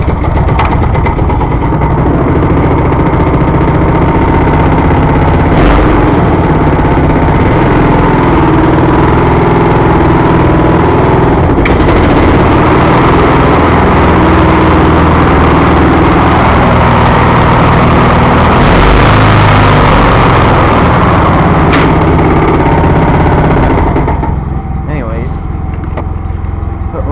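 A 318 engine idles after a cold start, a steady loud low rumble that runs almost unbroken for the whole stretch, with a few sharp knocks and a voice briefly heard over it.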